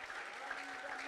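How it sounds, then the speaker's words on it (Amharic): A church congregation claps together in a dense, continuous burst, loud and even, with a faint voice underneath. "አጨብጭቡ"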